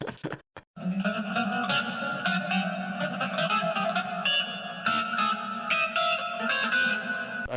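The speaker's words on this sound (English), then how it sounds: "They make it sound like this weird electric organ." Guitar run through heavy effects so it takes on the tone of an eerie electric organ, playing a wavering, sustained line with bright overtones and echo, steady and fairly loud after a brief broken start, with no talking.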